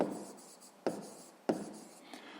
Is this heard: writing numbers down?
yes